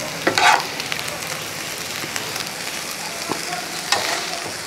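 A spoon stirs noodles with ground chili pepper in a hot pan, giving a continuous close sizzle with scraping and occasional sharp clinks, no talk.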